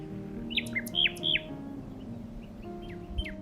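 Common nightingale singing: a few clear, rising whistled notes and chirps in quick bursts, moderately near, over a steady low background hum with no talk.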